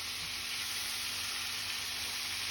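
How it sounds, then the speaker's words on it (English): Cod pieces frying in a pan give off a steady, faint hiss of sizzling oil that runs unbroken throughout, with no other sounds over it. "we now have to turn the pieces of cod so the other part can fry as well"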